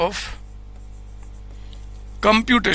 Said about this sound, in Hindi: लिखिए सोल्यूशन यहां पे मैं लिख रहा हूं